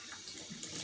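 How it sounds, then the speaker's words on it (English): Hot water from a running tap splashed onto the face during a straight-razor shave, a short, close, steady rush of water with no talking. "put some more hot water on my face"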